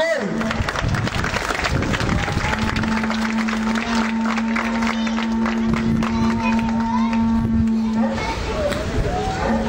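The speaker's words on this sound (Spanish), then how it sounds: "Pedimos aplausos fuertes, por favor." Crowd applause and noise at an outdoor dance performance by the Rubios troupe of the San Pedro neighbourhood, a busy wash of clapping and voices with a sustained musical tone running beneath through most of the span.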